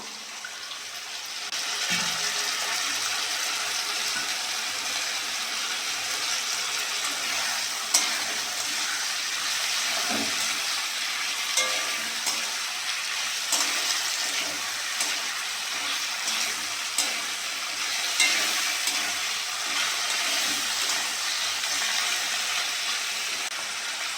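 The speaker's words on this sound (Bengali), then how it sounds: "কেটে রাখা চিটি কাঁকড়া দিয়ে দেবো।" Chopped chiti crab fries in a pan, giving off a loud, steady sizzle throughout, broken by scraping stirs and clinks at irregular intervals, with no talking.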